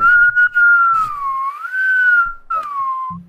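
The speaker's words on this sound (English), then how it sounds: "You just leaned into your microphone and whistled" A person whistles a wavering melody close to the microphone, loud and clear, with a few short breaths and bumps between phrases.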